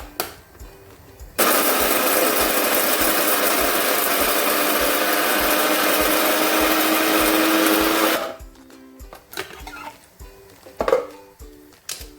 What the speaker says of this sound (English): So now I'm going to grind my crayfish using my little grinder.